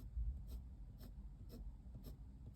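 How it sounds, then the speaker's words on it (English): Soft, steady scratchy rubbing of a blender pencil being worked over drawn eyelashes on paper, close and quiet, with faint rhythmic strokes repeating about every half second. "I've gone over the blender pencil."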